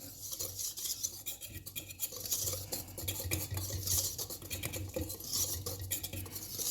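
Dry dough ingredients, flour with a tablespoon of yeast, being stirred in a bowl for cinnamon rolls: close, continuous scraping and clinking of a utensil against the bowl in a quick, uneven rhythm.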